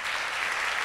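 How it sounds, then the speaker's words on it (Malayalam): An audience at a teens' career guidance camp gives a brief burst of steady clapping. "എല്ലാവരും ഒരു നല്ലൊരു കയ്യടി അവർ കൊടുത്തു"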